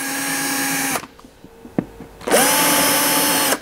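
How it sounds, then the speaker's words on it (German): A power drill runs at a steady high whine, stops for about a second with a few small knocks, then starts again and spins up briefly while drilling into screen-printed plywood board. "Nur anbohren, dass die äußerste Siebdruckplattenschicht dann"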